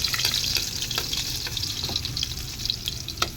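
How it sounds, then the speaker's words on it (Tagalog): Garlic sizzles in hot cooking oil, a close, steady crackling fry with occasional sharper pops and faint stirring. "lalagay na po natin ng bawang"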